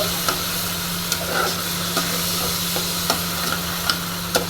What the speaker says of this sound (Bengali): এবার এটাকে আমি অল্প নাড়িয়ে নেব